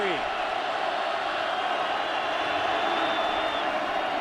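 A stadium crowd roars in a sustained, broad wash of noise at a 2006 BYU vs Arizona college football game, steady and fairly loud throughout.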